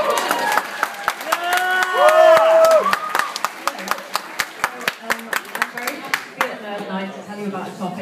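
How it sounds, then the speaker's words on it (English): Scattered hand clapping from an audience, sharp and fairly close, with some swooping tonal sounds in the background. "People are clapping for you."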